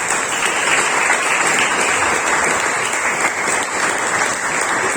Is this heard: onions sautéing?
no